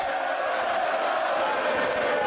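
A dense, steady roar from a wrestling crowd at an indoor tag team match fills the clip, with no single voice standing out.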